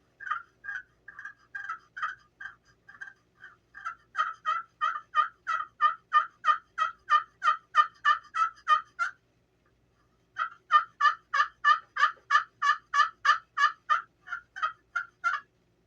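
Hand-made turkey calls worked to imitate a raspy hen turkey: a long run of rhythmic, evenly spaced yelps, close and loud, pausing briefly before a second steady series resumes.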